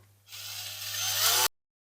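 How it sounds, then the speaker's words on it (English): A small 1.5mm drill boring into a Budgie Toys AA Jumbo Control Centre diecast model, a short high-pitched whirring grind lasting about a second, close and alone, then stopping abruptly. "So we're back with that small drill"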